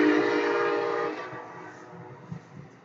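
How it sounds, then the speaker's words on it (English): An Amtrak passenger train rushes past close by with a loud, sustained horn-like tone and rumble that cuts off after about a second, then fades quickly into a softer rolling clatter. "That's an Amtrak, so it went by fast."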